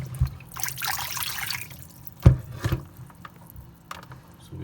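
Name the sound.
water poured out of a glass electric kettle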